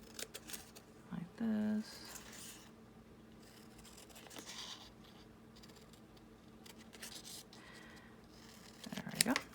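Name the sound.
cutting out a paper tag with scissors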